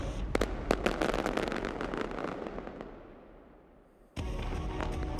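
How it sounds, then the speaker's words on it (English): Fireworks at the McLaren 2026 Formula 1 car launch, a rapid crackling barrage of bangs that fades out, then resumes abruptly with dense crackling near the end. "It was just fireworks"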